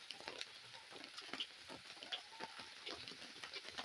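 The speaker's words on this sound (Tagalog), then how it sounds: "Lakas ang ulan. Ayun mga kaibigan ko, tudo-tudo pa rin ang ulan hanggang ngayon." Heavy rain pours down steadily, a dense hiss with scattered patter of drops striking a surface, fairly faint and continuous with no voices.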